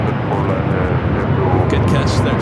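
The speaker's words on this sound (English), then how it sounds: "Oh, there's a bunch of planes." Airplanes at Los Angeles LAX airport produce a continuous broad engine roar, fairly loud and steady, with people talking over it.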